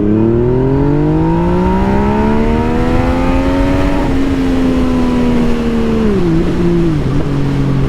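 Yamaha MT-09 motorcycle in A mode accelerating hard, engine pitch climbing steadily through a long pull, then dipping briefly at a gear change before climbing again, loud and close throughout.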